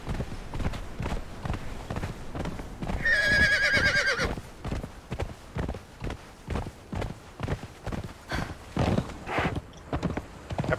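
A horse in the video game Conan Exiles lets out a loud whinny partway through while its hooves clip-clop in a steady rhythm throughout.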